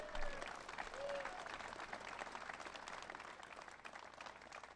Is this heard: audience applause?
yes